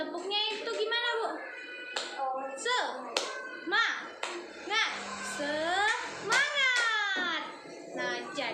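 Schoolchildren in a classroom perform a rhythmic class clapping cheer, sharp clap bursts in a patterned sequence mixed with children's chanting voices.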